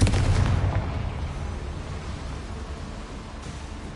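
A fiery Confringo blast spell from the Hogwarts Legacy video game bursts loudly at the start, then fades into a rolling, rumbling decay that lasts several seconds.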